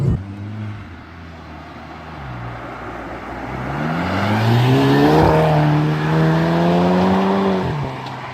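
An APR Stage One tuned Mk6 Golf GTI engine revs up repeatedly toward about 4,000 rpm and drops off, the exhaust note rising and falling loudly and steadily with no talking.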